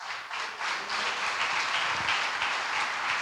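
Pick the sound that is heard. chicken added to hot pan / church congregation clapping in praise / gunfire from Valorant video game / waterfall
church congregation clapping in praise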